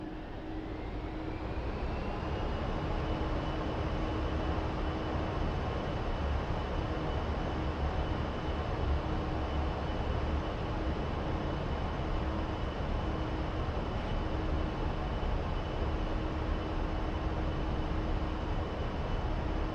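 A jet engine spools up in a DCS flight simulator, a loud, steady roar with a rising whine that climbs in the first couple of seconds and then holds, continuous and close, with no talking.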